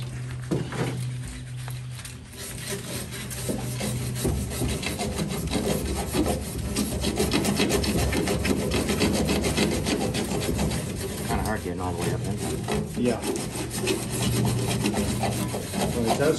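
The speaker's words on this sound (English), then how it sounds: "Then we're going to have to fire up the sander and hit this." A sander works over the grille and bumper of a 1952 Chevy, a steady close abrasive rasping and rubbing that runs almost without a break.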